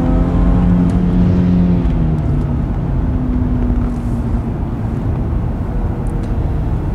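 A Porsche Panamera S e-Hybrid in Sport Plus mode accelerates hard on a highway, its engine note a loud, steady drone with rising harmonic tones over constant road and wind roar, no voices present.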